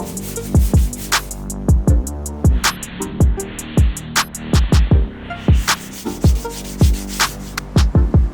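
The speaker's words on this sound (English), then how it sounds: "So I got the front fender all sanded." Hand sanding of Bondo body filler on the front fender of a Nissan S14 during rust repair: rhythmic back-and-forth scraping strokes, roughly one per second, close and gritty, with no voices.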